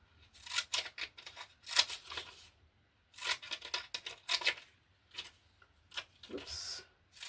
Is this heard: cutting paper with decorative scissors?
yes